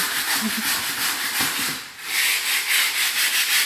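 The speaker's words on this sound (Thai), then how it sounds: "ใส่กระดาษทรายคัดๆไป" Sandpaper rubbed by hand over wood during house building work before priming, a close, rough rasping hiss in repeated back-and-forth strokes with a brief pause midway.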